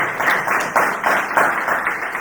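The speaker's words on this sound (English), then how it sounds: "Now you can applaud you." A conference audience claps in a loose, moderately paced rhythm, individual hand claps distinct and fairly close, rising in a few pulses over a couple of seconds.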